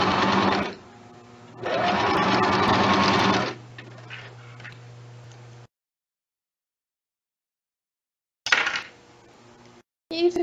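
Sewing machine stitching seams on a straight skirt in steady whirring bursts, starting and stopping with pauses and near-silent gaps in between.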